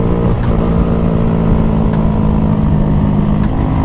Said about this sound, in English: My Grom is backfiring so hard.